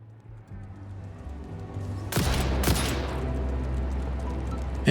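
Gunfire at spiders in the factory game Satisfactory: a couple of sharp, loud shots ring out near the middle, then a lingering low rumble over quieter ambient hum.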